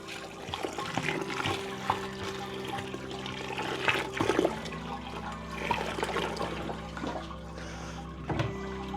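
Sparge water is poured over the grain bed during a home brew day, making a continuous splashing, gurgling rush with a few louder surges, close and alone.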